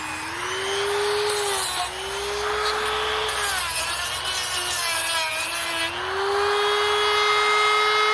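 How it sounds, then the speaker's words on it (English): A small drum sander whines steadily and close by while blending a Harley-Davidson Sportster intake port, its pitch dipping and rising as the load changes, with no pauses. "Put one of these guys in here, a little drum sander."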